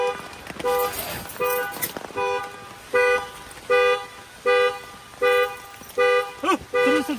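A car alarm sounds outdoors at a campsite, giving a regular series of repeated honking tones, about ten evenly spaced blasts at moderate distance, with rustling and faint voices underneath.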